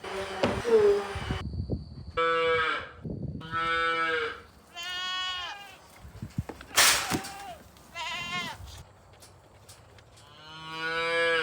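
Sheep and goats bleat repeatedly on a farm, several loud, close calls overlapping one another in bursts, with cattle-like lowing mixed in and brief gaps between calls.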